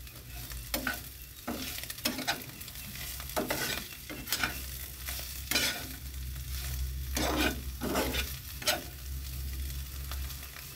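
Bitter gourd frying in a pan, a steady sizzle broken by repeated scraping strokes of a spatula as it is stirred, close and fairly loud, with no voices.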